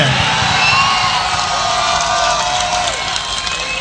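Crowd cheering and whooping at a live Hindi poetry and comedy speech in Haryana, a continuous loud wash of voices across the whole span with little distinct clapping.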